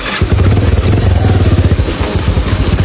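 A motorcycle being brought inside putters close by with a rapid, rhythmic engine chug that holds steady for a few seconds before thinning out.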